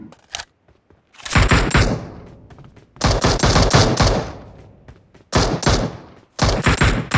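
Rapid bursts of automatic gunfire crack loud and close in a shooter video game, several clusters of shots separated by brief quiet gaps.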